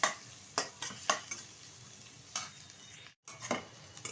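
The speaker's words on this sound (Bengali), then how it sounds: "এখন ভালোভাবে মশলাটা কষিয়ে নেব।" Spice masala for ghugni fries in a pan while a spoon stirs it, producing several distinct scraping clinks over a low sizzle, close by, with one brief silent gap and no voices.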